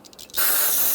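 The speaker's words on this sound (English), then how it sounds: "Use a little brake clean." Brake cleaner sprays loudly and steadily onto a power steering pressure line on a 2007-2012 Nissan Altima, starting abruptly after a few faint handling sounds and hissing without a break to the end.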